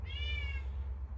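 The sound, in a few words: cat meowing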